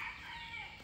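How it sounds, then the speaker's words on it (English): Birds calling in an African village, with faint, steady chirping and a rooster-like crow carrying through a quiet outdoor setting. "You could hear the birds."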